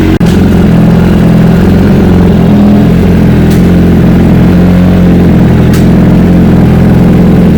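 A 2018 BMW S1000RR motorcycle engine with new radiator hoses runs loud and close, a steady throbbing rumble with slight rises in revs and a couple of faint clicks.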